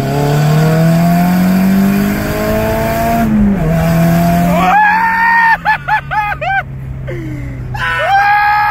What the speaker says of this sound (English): Obviously the divorce pipe sounds amazing and it's fun and it's great